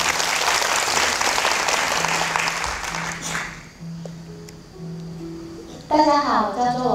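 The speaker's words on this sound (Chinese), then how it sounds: "来，我们鼓掌欢迎他一下。" An indoor audience claps warmly for a few seconds, the applause fading out before a voice begins speaking near the end.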